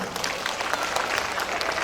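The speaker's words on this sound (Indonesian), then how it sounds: "Tepuk tangan untuk Pak Kapolres." Audience applause for the police chief at a church synod closing ceremony, a brief burst of steady crowd clapping, moderately loud and continuous, with no talk over it.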